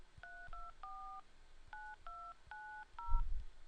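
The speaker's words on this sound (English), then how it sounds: "I'm going to pick it up and dial my home phone." A cell phone dials a home number, sending seven short DTMF beeps in an uneven sequence against a quiet background, ending in a brief low handling thump.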